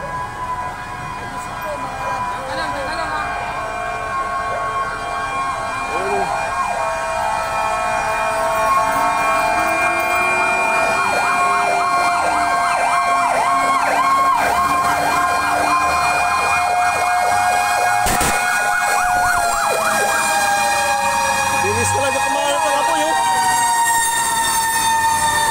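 A loud fire truck siren, arriving at a fire in a crowded neighborhood, wails and warbles continuously, rising and falling in pitch, with a blaring horn blast partway through and faint voices beneath.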